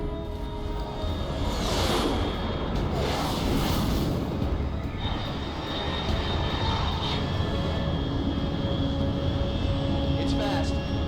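An unidentified fast aircraft in Metal Gear Solid Delta roars loudly and steadily overhead, with sweeping whooshes as it passes, while a voice talks over the engine noise.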